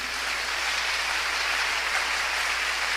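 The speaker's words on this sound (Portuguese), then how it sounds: "Eu gostaria que a igreja aplaudisse ao Senhor por todas as mães" A church congregation applauds the Lord for all the mothers, a steady, dense wash of clapping that holds evenly for a few seconds with no voices over it.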